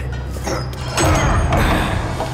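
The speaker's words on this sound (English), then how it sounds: "Close the door!" A door slammed shut in a tense full-cast horror audio drama, a loud low thud landing about a second in and followed by a rumbling tail, with no talk over it.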